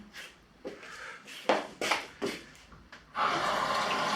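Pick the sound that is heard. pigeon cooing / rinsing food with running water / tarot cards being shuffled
rinsing food with running water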